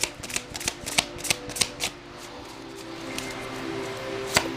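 Tarot cards being shuffled nearby: a quick run of crisp riffling flutters over the first two seconds, then a quieter stretch and one last sharp snap of cards near the end, with no talking.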